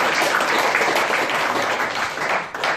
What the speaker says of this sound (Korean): 더 뜨거운 박수부터 보내십시오.